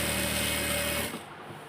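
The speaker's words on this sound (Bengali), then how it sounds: "এখন সেলাইটা ঘুরে ঘুরে দিতে হবে" A sewing machine stitches around the elastic waistband of a gharara, whirring steadily and close for about a second before stopping abruptly.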